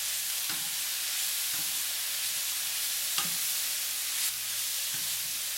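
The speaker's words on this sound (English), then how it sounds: "Stir everything all around." Turkey sausage, sweet bell peppers and onions sizzle in a stir fry as a utensil pushes them around, giving a few soft scraping knocks over a steady, fairly quiet hiss with no voices.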